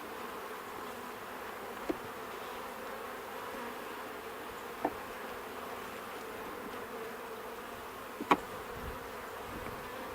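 Honeybees swarming at an open beehive produce a continuous close buzzing drone, with a few faint clicks and knocks from the hive frames.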